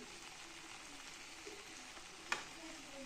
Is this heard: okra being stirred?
yes